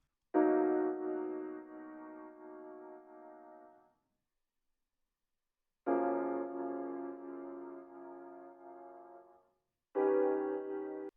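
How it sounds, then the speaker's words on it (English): Moody RnB Rhodes chords layered with an acoustic piano for a thicker sound, heard as three sustained chord stabs, each decaying into silence before the next, with no talking. "to thicken up the Rhodes we added a piano"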